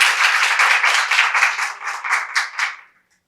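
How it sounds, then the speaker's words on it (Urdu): An audience applauds a speaker, Mian Sajid Ali, at an Iqbal Academy Pakistan memorial event. The clapping is dense and continuous, thins into a few scattered claps and stops near the end. "بھرپور تالیوں میں استقبال کیجیے۔"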